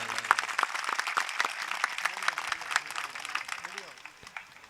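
An audience at an auto-rickshaw drivers' union Diwali Milan celebration claps in dense, sustained applause, with a voice talking over it.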